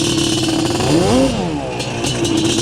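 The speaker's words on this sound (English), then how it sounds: "I'll do a couple rips, really open this thing up." A Yamaha Banshee ATV engine revs hard close by, a steady motor drone rising in pitch as the throttle opens and then falling back to idle, loud with no talk over it.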